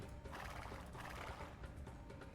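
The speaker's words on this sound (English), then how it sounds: "a bunch of horses in their camp" Horses neighing in a camp in the strategy game The Rise of Tamerlane 2, a steady wash of whinnies and hoof clatter with ambient game noise, moderately loud throughout.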